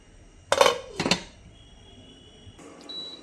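Lid set onto a pot of cauliflower curry, two quick metallic clinks close by followed by a quiet hum.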